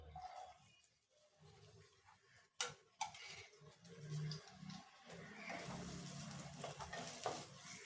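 Oil sizzles steadily as finely chopped onions fry in a pan with cinnamon and cloves, with a couple of sharp clatters from the pan and a low background rumble.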